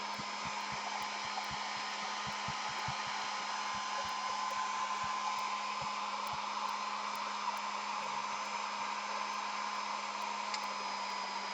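A heat gun blows a steady, even whine and rushing airflow while drying alcohol ink on a gel print, loud and continuous for the whole stretch with faint ticking clicks, no talking.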